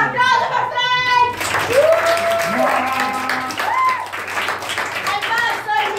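Crowd applause for a guitarist at a live radio-station show, a steady wash of clapping running throughout under an announcer's voice and sung or sustained tones.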